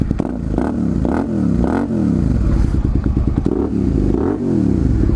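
A loud, nearby quad bike engine revs up and down repeatedly, its pitch rising and falling in throaty waves with a rattling edge.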